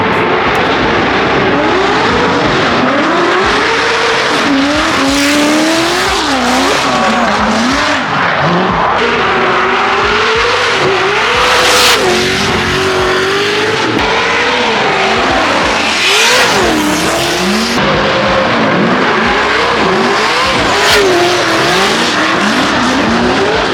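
Drift cars at Formula Drift Long Beach scream past at close range, engines wailing through wavering revs with tire squeal and skidding, loud and continuous throughout with repeated pass-bys.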